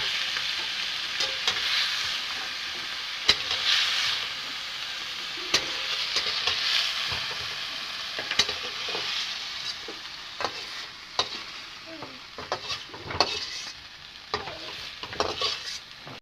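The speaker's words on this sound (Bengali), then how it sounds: "এই আলু কপি তো আমার ভাজা গেছে" Potatoes and cauliflower frying in a pan give a steady, close sizzle throughout, broken by frequent sharp clicks and scrapes of stirring, with no one speaking.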